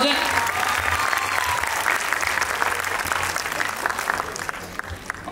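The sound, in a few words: audience applauding loudly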